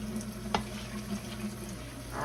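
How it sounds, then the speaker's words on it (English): Water poured into a pot of dried black-eyed peas, a soft, steady trickling and rushing wash with a brief splash near the start and a louder splash at the end, close by and with no talking. "we're gonna pour some water in here"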